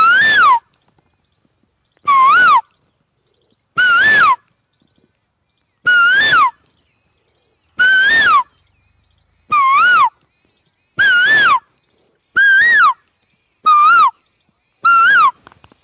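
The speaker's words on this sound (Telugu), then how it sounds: "అందుకొరకు కోయిల యొక్క ధ్వనిని మీరు ఇప్పుడు ఆస్వాదించబోతున్నారు." An Asian koel calls loudly and alone, about nine clear rising whistled notes repeated at steady intervals of roughly two seconds.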